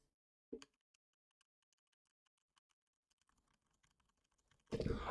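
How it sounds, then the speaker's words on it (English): Light typing on a computer keyboard: scattered faint key clicks spaced out after one sharper tap, then a quicker burst of keystrokes ending in a loud cluster of mashed keys. "Or I'll type on my keys."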